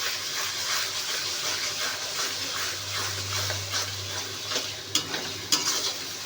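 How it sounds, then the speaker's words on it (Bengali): Garlic paste hisses and sizzles in hot oil with browned onions for a mutton curry, a steady close frying noise with a few sharp stirring clicks near the end; no one speaks. "ভেজে নেব, কষিয়ে নেব।"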